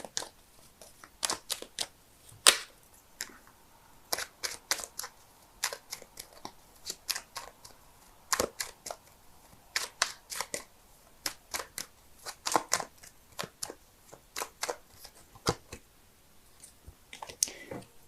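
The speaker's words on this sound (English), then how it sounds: "so give me a sec while I shuffle." Tarot cards are shuffled in a long run of sharp, crisp clicks and riffles, close and fairly quiet, repeating irregularly with brief pauses between bursts.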